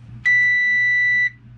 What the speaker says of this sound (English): Sounds to me that the beep is coming from down in here.